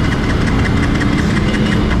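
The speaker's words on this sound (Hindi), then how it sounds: "तो आप देख रहे हैं बाइक स्टार्ट नहीं हो रहा है।" A Hero Xtreme 160R motorcycle's electric self-starter cranks with its tank run dry, giving a steady loud mechanical churning and knocking that never catches into a running engine.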